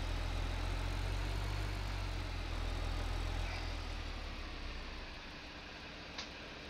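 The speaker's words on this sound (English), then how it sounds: "Bringing a big tractor through." A big tractor engine in Farming Simulator 15 drones steadily with a heavy low rumble, loud and close, easing slightly quieter toward the end, with no talking.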